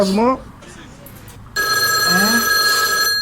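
A telephone bell rings loudly and steadily, a continuous trilling ring that starts partway through, with people talking before and over it.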